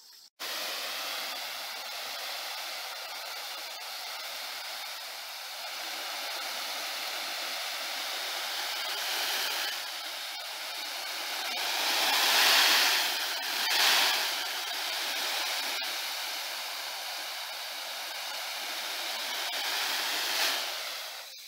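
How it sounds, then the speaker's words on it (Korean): Water sprays gently and continuously over a freshly sown scallion bed in a vegetable garden, a steady close hiss lasting the whole stretch, swelling slightly midway. "자, 그러면 이제 물을 주고 마무리를 하겠습니다."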